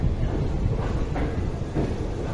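The Rajya Rani Superfast train, number 20659, runs between Mysore and Bangalore with a steady loud rumble and faint rhythmic rail clatter heard from on board.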